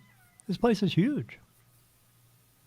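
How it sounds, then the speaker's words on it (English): A domestic cat gives a short series of loud, close meows, a brief drawn-out vocal burst in an otherwise quiet room, followed by near silence. "that's my cat"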